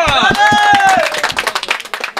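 Brief burst of hand clapping from a small crowd at a Gabtoli cattle market selling Qurbani cows, rapid irregular claps mixed with voices and a shout, fading over about two seconds.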